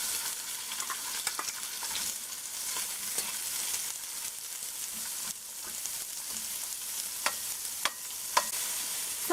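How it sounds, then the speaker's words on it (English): Onions frying in hot oil in a pot give a steady, close sizzle with a few sharp pops and stirring clicks, and no one speaks. "you're going to add your onions in"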